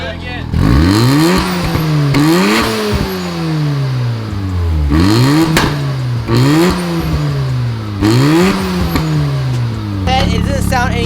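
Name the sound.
car exhaust backfiring while revving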